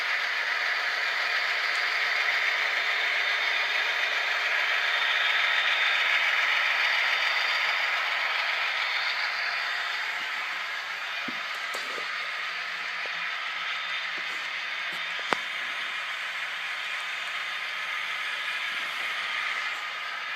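Model railroad locomotives on a BNSF-themed layout, two Zeros coupled around an Ace, pull a long manifest freight with a steady close mechanical whir and rumble. One sharp click lands partway through.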